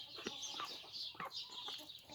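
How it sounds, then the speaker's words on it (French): An old hen clucks softly and repeatedly at close range, low murmuring clucks in an irregular rhythm, faint and calm in the evening. "Une vieille poule que tu peux caresser comme ça."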